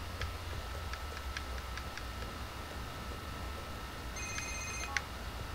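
A phone ringtone rings in the GTA IV video game, a short series of evenly spaced electronic tones over a steady low background hum, followed by a brighter burst of tones near the end.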